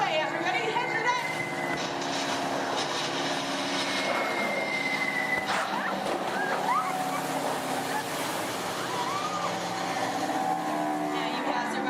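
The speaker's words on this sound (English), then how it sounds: "You hear more enemy planes approaching." Bomber aircraft engines roar in as a staged effect at a Walt Disney World theme park show, a continuous loud droning rumble layered with crowd noise and a presenter's voice talking over it.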